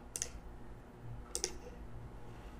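Two crisp computer mouse clicks about a second apart, quiet and close, made during slide editing in PowerPoint, with no talking.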